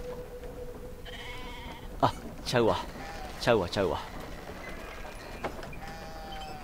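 Sheep bleat in Brothers: A Tale of Two Sons, with a couple of wavering calls in the middle of the stretch, close and clear, while someone talks excitedly around them.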